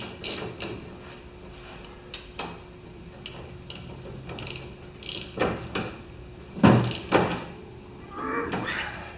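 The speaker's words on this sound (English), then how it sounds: "you can still make it ratchet with the wrench from the top" A ratchet wrench turns a nut from the top during a steering job. Close, uneven bursts of ratcheting clicks are heard, with brief pauses and heavier clunks between them.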